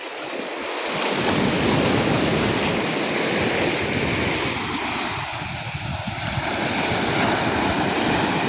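Sea waves rolling onto the shore fill the clip with a loud, continuous roar and wash, heavily buffeted by wind noise on the microphone, with no voices.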